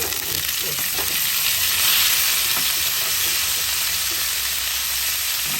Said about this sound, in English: Just going to fry saute the asparagus